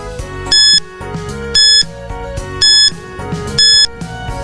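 A timer alarm goes off as time runs out, sounding four loud, evenly spaced beeps about a second apart over a steady musical background.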